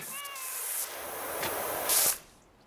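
Cats meowing inside the PowerWash Simulator 2 video game, a few short high-pitched mews early on over a steady wash of spray-like hiss that swells and then cuts off near the end.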